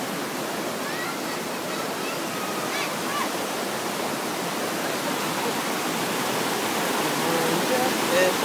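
Steady broadband wash of sea water along a beach where people are bathing, a constant near-field rush like surf, with faint distant voices and a few faint bird-like chirps above it.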